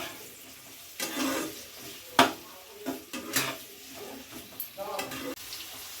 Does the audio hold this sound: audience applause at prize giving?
no